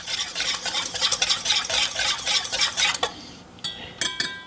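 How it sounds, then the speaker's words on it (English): Whisk clattering steadily against a bowl as hot sauce is worked into barbecue sauce, a brisk rhythmic scraping for about three seconds, then a pause broken by a few sharp metallic taps. "We'll give it a whisk."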